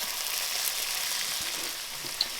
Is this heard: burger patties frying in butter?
yes